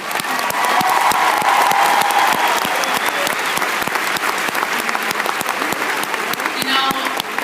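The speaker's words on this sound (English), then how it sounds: "give yourself a round of applause for making the investment to be here" A conference audience breaks into loud, sustained applause, dense clapping mixed with a few cheers that carries on evenly for several seconds.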